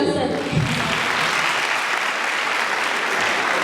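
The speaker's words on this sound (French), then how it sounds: "Merci beaucoup sur vos applaudissements, mesdames et messieurs." Hall audience applauding at a student talent show, dense steady clapping filling the room for the whole stretch, with a voice briefly audible near the start.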